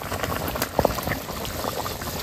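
Fish pieces drop into a pot of boiling potato broth, a couple of soft plops amid continuous bubbling and gurgling of the thin curry.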